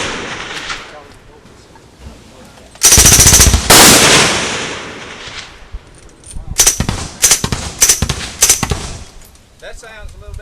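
A suppressed S&W 76 submachine gun fires .22 ammunition in bursts: one long rattling string, then several shorter bursts, loud and close, with a voice briefly heard between them.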